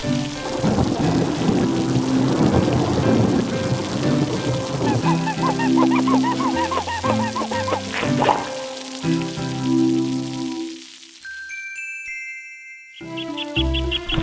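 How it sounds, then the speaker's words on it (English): Rain patters steadily with rumbles of thunder, mixed with soft music and chiming tones that fade near the end. "And the rain came down and would not stop."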